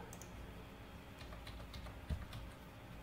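Quiet, close tapping of a computer keyboard while entering an AutoCAD command, a quick run of soft individual key clicks with one slightly firmer press near the end.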